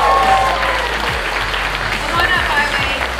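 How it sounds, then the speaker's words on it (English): An audience at a hackathon awards event applauds the AngelHack winner, loud, dense clapping that holds steady for over three seconds, with a few cheers mixed into the crowd noise. "big round of applause for"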